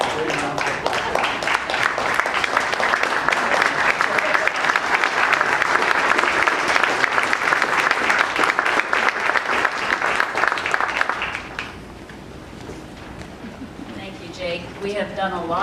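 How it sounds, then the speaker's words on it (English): A large audience applauds veterans at a family gathering for the B-24 bomber "Heaven Can Wait" crew, dense sustained clapping for about eleven seconds before dropping off, and a voice starts speaking afterward. "everybody stand up and give these guys a great round of applause"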